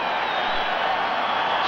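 Scattered crowd applause at a 1988 Michigan versus Wisconsin college football game, a steady, even hiss of distant clapping and crowd murmur across the stadium.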